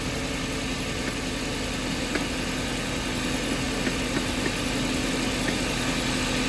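A Kia Sorento engine idles steadily with its drive belt spinning, giving a constant, close, unbroken mechanical drone with faint ticks and no change in pitch.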